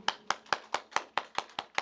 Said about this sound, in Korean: 그렇게 믿는 분들은 박수.